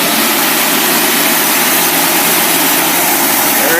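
A car engine roars steadily at high revs against a 5,000 RPM rev limiter during a brake test, dense and very loud, heard close with no talk.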